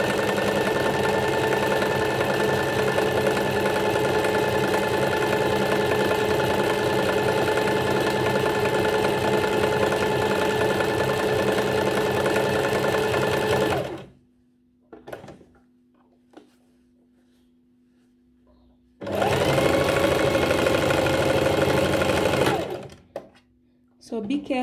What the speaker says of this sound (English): So you just put the settings on your zigzag stitch on the machine